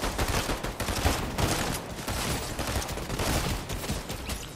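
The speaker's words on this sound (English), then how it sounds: "Shots fired southwest." Sustained bursts of rapid gunfire from squads fighting each other in a battle royale video game, steady and dense throughout with overlapping shots and a few louder cracks, no talking.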